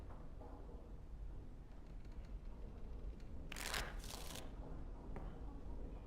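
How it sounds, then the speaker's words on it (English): Playing cards being shuffled in Dragon Age: Origins, one brief riffling burst of about a second, crisp and fairly close, over a low steady ambient hum with no talk. "Before we start, the cards must be shuffled."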